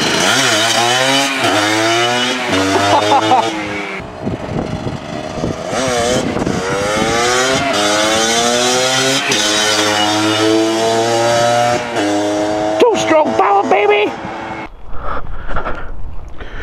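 Small motorbikes, including a Benelli TNT 125, rev and race nearby with a loud, buzzy engine whine that rises and falls through repeated gear changes, then drops away near the end.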